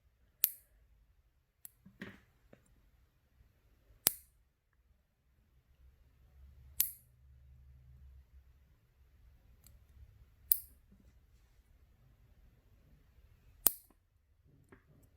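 Nail clippers cut nails short during a gel pedicure, with about seven crisp, separate snips spaced a second or more apart in an otherwise quiet room.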